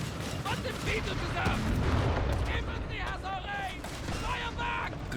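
Battle sounds in the Company of Heroes 3 strategy game, with Afrika Korps fighting US forces: dense, loud bursts of gunfire and booming explosions from a bazooka team, overlapping continuously without a gap.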